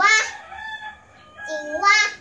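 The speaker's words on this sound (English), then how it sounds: "Our next animal is a chicken." A rooster crows twice, loud and close, each call a bright rising-and-falling cock-a-doodle-doo with a quieter gap between them and no talk.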